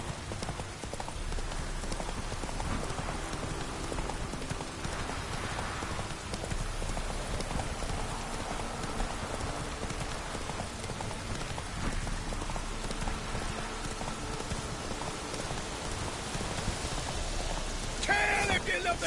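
Roach the horse trots on in The Witcher 3, with steady rhythmic hoofbeats clip-clopping under rain and a faint rumble of weather, while game voices speak briefly over them.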